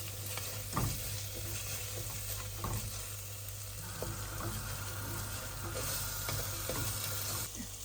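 Sliced onions for a mutton curry fry in a pan with a steady close sizzle, broken by occasional scraping stirs of a spoon, and no one speaks.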